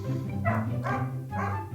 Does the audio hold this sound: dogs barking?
yes